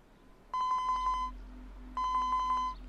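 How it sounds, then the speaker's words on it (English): A cell phone in the video game 428: Shibuya Scramble rings in two trilling electronic bursts, each a rapid beeping tone lasting under a second, separated by a short pause over a low hum. "Osawa's cell phone rang"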